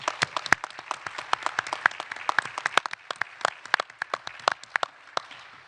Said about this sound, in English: give yourself a pat on the back, a round of applause